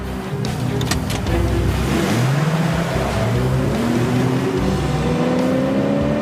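A car speeds along with its engine climbing in pitch as it accelerates, a loud, steady roar with repeated revving sweeps and no audible talk.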